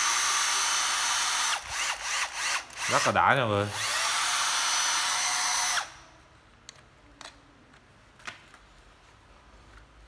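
A Makita 9.6V cordless drill, rebuilt to run on a 12V battery, whirs loudly and steadily in drill mode, with a few revving surges, then stops abruptly, leaving faint clicks and handling noises while someone talks over it.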